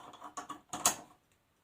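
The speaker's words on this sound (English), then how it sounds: "Here's a bolt here that I can clip quick draw to." A climbing quickdraw carabiner is clipped to a bolt on a multi-pitch rock route, a quick series of close metallic clicks and rattles ending in a crisp snap, then silence.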